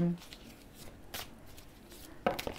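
A deck of oracle cards shuffled by hand close up, giving soft papery rustling and a few brisk flicks, with a faint voice in the background.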